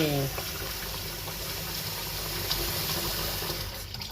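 Running water splashing steadily over sticky rice as it is rinsed a second time in a bowl, a continuous close wash of water with a brief voice at the very start.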